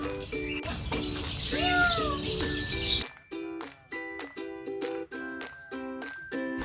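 Birds chirp and whistle at an exotic pet park in Tirupati: high rising tweets over a dense chorus at first, then a repeating pattern of short, evenly spaced calls.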